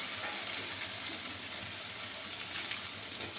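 Chicken mince fries in oil in a pan, a soft, steady sizzle heard close but fairly quiet throughout.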